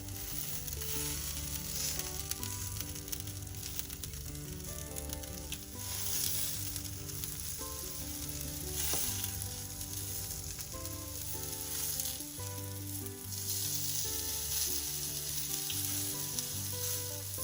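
Pork chops frying in a pan, pressed down gently to brown a golden crust: a steady, dense sizzle lasts throughout at an even, fairly loud level, with no talking over it.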